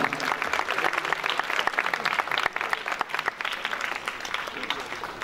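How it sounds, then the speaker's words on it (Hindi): A church congregation applauding steadily, dense sustained clapping filling the room from start to finish. "बहुत सारी तालियां"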